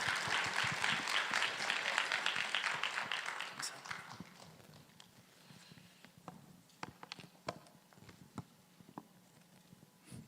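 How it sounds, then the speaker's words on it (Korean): A youth worship congregation claps to welcome a missionary speaker, a dense burst of applause for about four seconds that thins into sparse, scattered claps and faint shuffling. "이제 강기한 선교사님 등단하실 때 우리 박수로 환영해 주시도록 하겠습니다."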